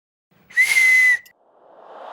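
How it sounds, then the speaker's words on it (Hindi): A watchman blows a sharp, steady whistle once, about half a second long, loud and close, in a police station, followed by faint hissy background noise. "पुलिस स्टेशन में हिम्मत कैसे हुई थारी सीटी मारने की?"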